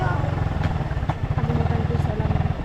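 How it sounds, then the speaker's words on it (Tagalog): A running motorcycle engine putters with a steady, rapid low thump, close and fairly loud throughout. "maganda pa ng takbo ng motor mo"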